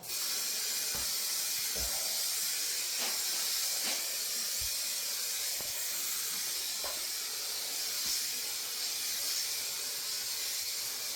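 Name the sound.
spray paint rattle can spraying a Jaguar X-type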